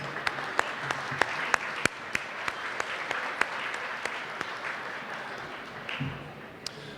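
Audience applause at an awards event, a steady wash of clapping with sharp individual claps standing out, moderately distant and continuing throughout, thinning slightly near the end.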